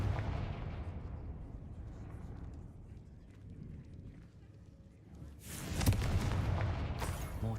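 A Confringo fire-blast spell cast in Hogwarts Legacy, heavy booming impacts and crackling bursts amid game ambience, with a louder sharp blast near the end.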